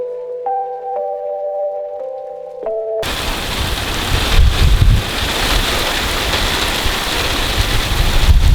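Heavy rain lashing down in high wind at an outdoor spot, a dense steady roar that cuts in abruptly after a few seconds of quiet tonal sound and carries on loud and unbroken with gusty rumble beneath.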